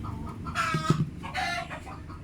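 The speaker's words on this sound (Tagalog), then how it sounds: "O yun, shout out yung mga manok." Chickens cluck in short bursts at mid distance against a steady background hum, with a couple of louder calls around the middle and no talk.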